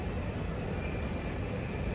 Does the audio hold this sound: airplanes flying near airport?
yes